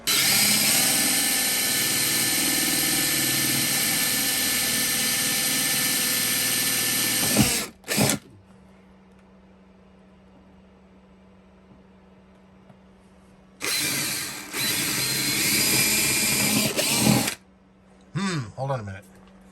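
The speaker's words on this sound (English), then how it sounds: "There was an awful lot of drilling there." A power drill bores holes in wood for lights during a 1948 Gillig bus remodel, whining loudly for about seven seconds, then running again in shorter bursts after a quiet gap.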